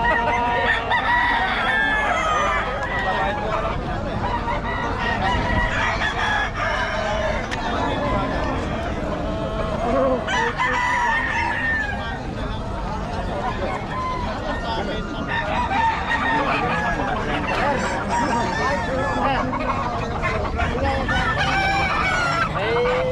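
Roosters crow repeatedly amid clucking chickens in a loud, crowded chicken market in Bocaue, Philippines, with people talking throughout.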